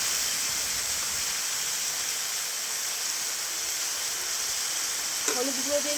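Ridge gourd and potato frying in a pan, with spices being added, give a steady loud sizzle throughout. A brief scrape and a faint tone come near the end.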